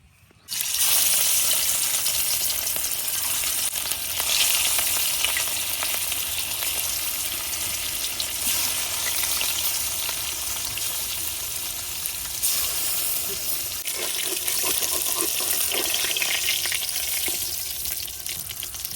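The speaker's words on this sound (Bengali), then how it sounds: "তো প্রথমে আমি শোল মাছগুলা ভাজে নিয়াম" Snakehead fish fillets frying in hot oil, seasoned with turmeric and salt in a home kitchen, giving a steady, loud sizzle and crackle that runs throughout without talk.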